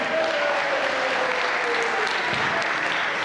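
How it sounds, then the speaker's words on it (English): An audience at a science center holiday lights show breaks into dense, sustained applause, loud and even throughout, after a young volunteer helps on stage. "Let's give Jude a nice big round of applause."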